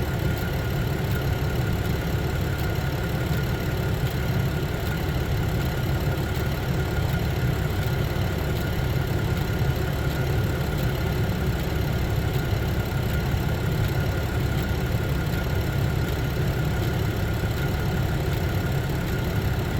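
A Chevrolet Traverse engine idles steadily during an A/C recharge, giving a continuous, even mechanical hum at moderate level with no voices.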